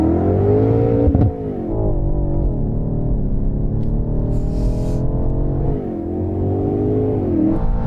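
A BMW M8 launching in a drag race against an M5, heard from inside the car: loud engine roar climbing in pitch through gear changes with brief dips between shifts, no talking.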